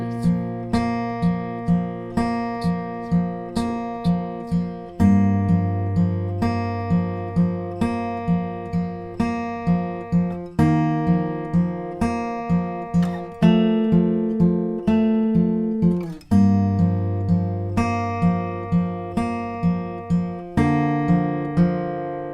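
Fingerpicked acoustic guitar plays the verse of a song, steady arpeggiated plucks with a bass note marking each chord change every few seconds, clear and close with no talking.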